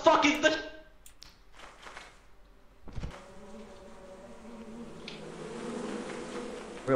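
Bees buzzing in the video game Brutal Company, a steady droning hum that swells toward the end, mixed with players talking and a few clicks.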